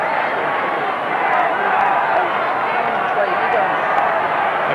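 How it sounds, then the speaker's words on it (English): A large Australian football crowd roars for the Brisbane Bears during a 1994 AFL match against Essendon, a loud, continuous, dense wall of crowd noise that holds steady throughout, with no distinct chant rhythm standing out. "A crowd chanting for the Brisbane Bears."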